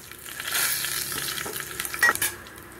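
A tempering of dried red chillies, curry leaves, chopped garlic and a pinch of asafoetida fries in hot oil for a pesara pappu fry, with a continuous close sizzle and several scraping stirs, no voices.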